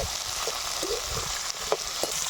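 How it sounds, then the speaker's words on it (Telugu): Veldt grape (nalleru) stalks and drumstick pieces frying in a pan for a village-style chutney, giving a steady broad sizzle with a few brief stirring clicks, close and continuous. "ఇదిగోని బాగా వేగాలి"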